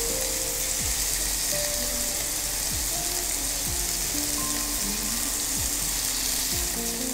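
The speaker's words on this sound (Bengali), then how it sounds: "চিকেনটা ভাজতে একটু সময় লাগবে" Garlic chicken fries in a pan with a constant, close crackling sizzle, broken by a few sharp metallic scrapes of stirring at regular intervals and no talking.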